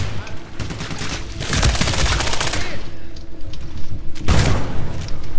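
Gunfire in the shooter game Medal of Honor Warfighter, during a hostage rescue mission: loud sustained automatic bursts and booms that swell in dense waves, with a brief lull in between and a player's voice talking over parts.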